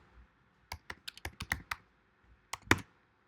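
Someone types Java code on a computer keyboard. A quick burst of close, crisp keystrokes is followed by a pause, then a couple more taps. No one speaks.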